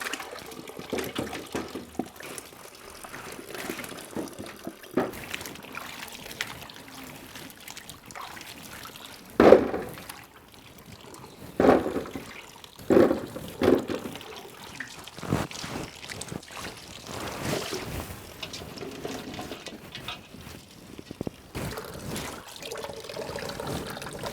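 A large batch of eggplants is washed in water for making dried vathal, giving soft continuous sloshing and trickling broken by several louder splashes as the vegetables are stirred and lifted from the water.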